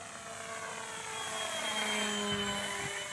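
A 68-inch Storm Chaser RC model airplane makes a low pass at quarter throttle. Its high, steady motor whine swells as it nears and slides down in pitch as it passes, with no talk.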